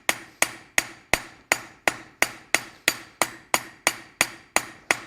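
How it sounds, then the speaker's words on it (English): A hammer strikes a copper rivet on a dome-head rivet block in about fourteen sharp, evenly spaced metallic blows, each with a short ringing decay, close and loud with no talking. "We're going to rivet that straight down."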